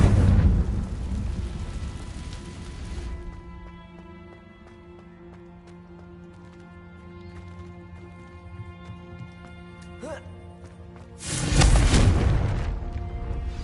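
A Confringo fire spell exploding in Hogwarts Legacy, a loud rumbling boom at the start that fades into tonal ambience, then a second heavy burst near the end.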